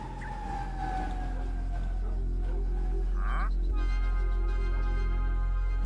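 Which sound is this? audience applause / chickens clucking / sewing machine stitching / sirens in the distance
sirens in the distance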